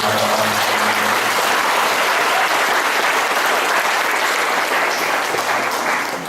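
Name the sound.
audience applause at an Islamic gathering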